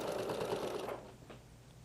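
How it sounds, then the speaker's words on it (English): A sewing machine back stitches through thick quilted layers for a bag, running steadily for about a second before winding down to a quiet stop. "So I am going to back stitch."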